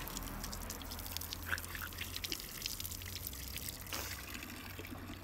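A Fontanella drinking fountain in Rome runs with a faint, continuous stream of water that trickles and splashes softly into the drain, with light dripping and street ambience around it.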